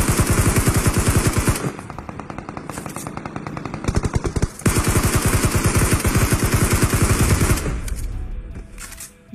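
Long bursts of rapid automatic gunfire strafing in a mobile shooter video game, loud and close, with a brief pause between sustained volleys and fading shots at the end.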